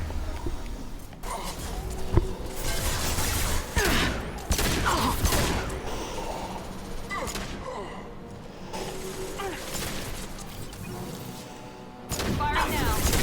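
Gunfire in the Mass Effect video game: clustered bursts of shots and booms, fairly close, with quieter gaps between volleys, while a voice talks over parts of the fighting.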